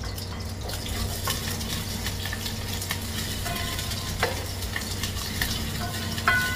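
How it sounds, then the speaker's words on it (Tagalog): Onions sizzle steadily as they fry in a pan for ginataang kalabasa, a Filipino squash dish, with occasional scrapes and clinks of a utensil stirring them; the frying is close and continuous, with no talking. "Tapos lagyan natin ating sibuyas."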